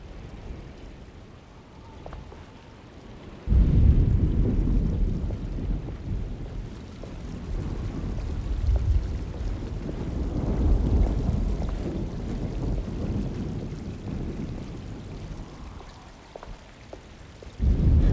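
Steady rain with wind rushing through a stormy night in the Alone in the Dark game, a broad low rumbling wash that swells and recedes throughout, loud and close, with no distinct thunder crack standing out.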